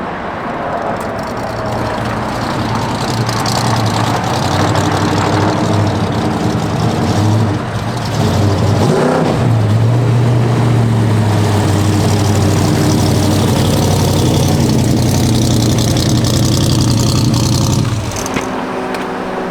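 A car on a test drive after being bought with dry-rotted front and rear tires; a steady engine drone holds close throughout, with a deeper surge midway and no talking.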